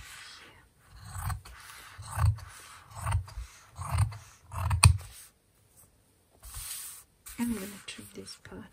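Scissors cut through fabric for a drawstring bag in a run of about five rhythmic snipping crunches, near and moderately loud, followed by a pause and a softer rustle at the end.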